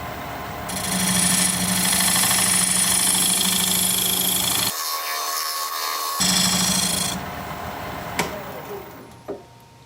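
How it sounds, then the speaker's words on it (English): Sassafras spinning on a wood lathe while a diamond point tool squares the sides of a tenon: a steady rasping, scraping whir that runs loud for several seconds, drops out briefly, resumes, then gives way to a few scattered knocks. "Now I'm going to use this diamond point tool to square up the sides of my tenon"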